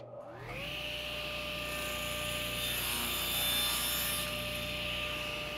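Table saw spinning up and trimming a wood board in a workshop, a steady loud motor whine with broadband cutting noise sustained throughout, no talking.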